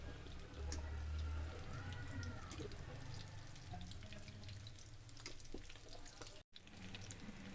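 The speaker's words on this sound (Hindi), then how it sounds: "ये देखिए बाब हमारे फ्राई हो रहे हैं।" Chicken aloo kebabs fry in a pan of oil, giving a steady, soft sizzle with scattered faint crackles and pops throughout and no voice over it.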